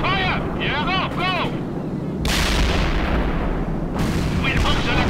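A tank main gun fires in the World in Conflict video game, and a heavy boom hits about halfway through, followed by a loud sustained rumble over battle noise, with shouted voices and radio chatter earlier.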